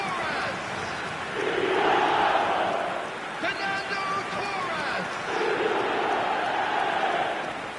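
A large football stadium crowd roars and cheers continuously, with loud sustained swells and an outburst of shouting in the middle, the noise filling the space throughout.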